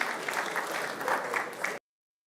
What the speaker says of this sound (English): cheers and claps.